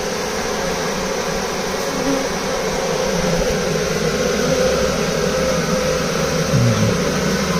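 A honey bee swarm drones in a dense, continuous buzz while being transferred into a Layens hive, the steady hum loud and close, with occasional louder passes of individual bees.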